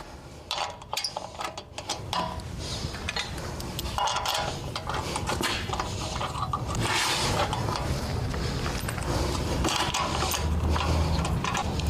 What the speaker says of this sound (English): Now it's time to grab these lug bolts here, thread these in.